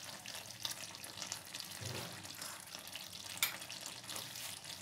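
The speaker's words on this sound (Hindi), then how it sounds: "सब्जी भी मेरा पक रहा है। सब्जी थोड़ा और पकेगा" Vegetables for a veg biryani cook in a pan with a soft, steady sizzle and faint scraping of stirring, quiet and close, with no talking.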